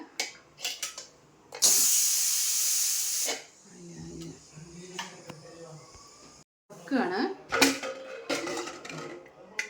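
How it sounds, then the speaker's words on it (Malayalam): A pressure cooker holding jackfruit vents steam after four whistles, a loud, sharp hiss lasting under two seconds, followed by clanks and handling noises, with someone talking in between. "4 വിസിൽ വന്നതിന് ശേഷം നമ്മൾ കുക്കർ തുറക്കുകയാണ്"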